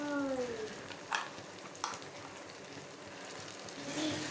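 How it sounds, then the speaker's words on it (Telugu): Ground masala paste frying with golden-browned onions in oil for kala chana masala, being stirred; a steady, close sizzle runs throughout, with a couple of brief scraping stir sounds. "ఈ మసాలా పేస్ట్ ఆనియన్స్లో కలిసేలా కలుపుకొని ఆయిల్ పైకి తేలేంత వరకు అయితే ఉడికించుకోవాలండి"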